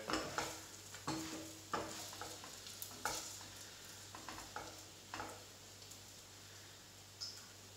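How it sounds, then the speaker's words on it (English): French toast fries in butter in a pan: a soft, faint sizzle runs under scattered scrapes and taps as the slice is moved and turned. "fry on the other side a little bit."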